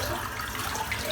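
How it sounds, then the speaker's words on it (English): Dirty shaving water is poured out into a sink as a steady, close splash and gush that runs unbroken the whole time, with no voices. "I'm just going to empty this water"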